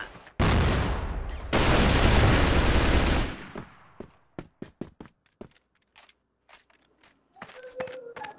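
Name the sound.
gunfire in the video game Crossfire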